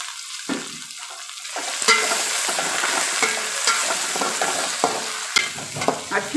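Mutton bones biryani masala fries and sizzles steadily in a pan, with a spoon stirring and scraping at intervals throughout; a close, continuous hiss with louder clatters, and nobody speaks.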